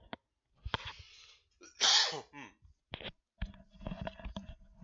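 A single harsh, explosive cough bursts out in a close voice, with some short speech-like sounds and clicks before and after it.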